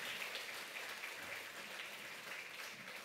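Congregation applauding during a Sunday worship service at a church, as children walk in. The clapping is a steady, dense wash of hands that stays even and fairly soft throughout, with no talk over it.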